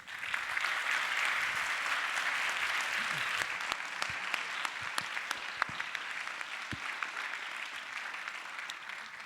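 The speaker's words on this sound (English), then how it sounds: "A big round of applause for him." Sustained audience applause at a games-day tech conference following a keynote, a dense, steady wash of clapping from a large crowd lasting throughout, with a few sharper individual claps standing out.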